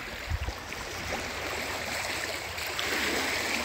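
Superior Falls, a waterfall beside a small hydroelectric dam, gives a steady broadband rush of falling water heard up close. A couple of brief thumps come at the start.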